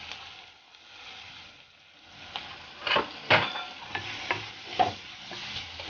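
Sliced onions and a sprig of curry leaves sautéing in a pan for Kerala fish curry, a low steady sizzle broken by several sharp scraping stirs of a spoon against the pan.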